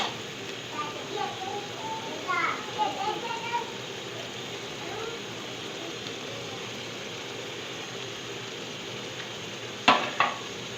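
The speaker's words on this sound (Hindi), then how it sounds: "अभी थोड़ा सा मैं चम्मच चला रही हूँ, फ़िश डाली है" A spoon works fish pieces through a masala curry in a pan, with soft scraping strokes and a low bubbling sizzle, then a brief sharp clink near the end; a voice talks faintly underneath.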